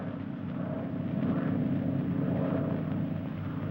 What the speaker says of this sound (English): That plane is to pick you up.